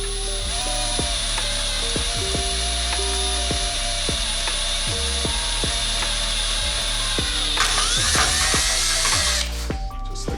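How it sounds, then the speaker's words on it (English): A power drill bores holes through a metal battery relocation bracket for a Honda EG Civic, its steady high whine and motor hum running loud and continuous with brief pitch dips as the bit bites. "And yeah, just start drilling in."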